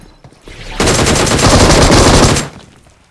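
Rapid automatic gunfire in PUBG Mobile on the Livik map, a dense, loud burst of shots lasting under two seconds that starts abruptly and cuts off sharply.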